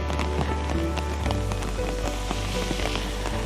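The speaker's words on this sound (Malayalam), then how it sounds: "ഇതിപ്പോൾ രാവിലെ തുടങ്ങിയ മഴയാണ് ശക്തമായ മഴ" Heavy morning rain pours steadily onto surfaces outdoors, a dense and continuous loud patter with no talking over it.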